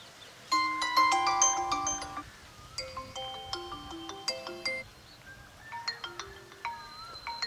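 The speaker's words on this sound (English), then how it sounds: "These are all the system ringtones." A Vivo V21e system ringtone plays: bright synthetic chime and marimba-like melody notes in quick rhythmic phrases, clear and close, with no talking.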